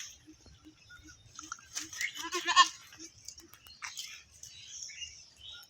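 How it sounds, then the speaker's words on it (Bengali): Young castrated male goats of a local breed, kept for sale, give a few faint bleats outdoors. Light bird chirps join them, peaking in a short cluster midway. "প্রতিটা খাসি দুই দাঁতের দেখেন।"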